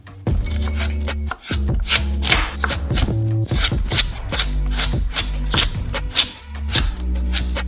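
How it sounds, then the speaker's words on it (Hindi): A knife cuts celery into strips on a cutting board, making a close series of crisp, irregular chops and scrapes with no voices. "फिर स्ट्रिप्स में काटेंगे और क्यूब्स में। सेलरी को भी पहले स्ट्रिप्स में।"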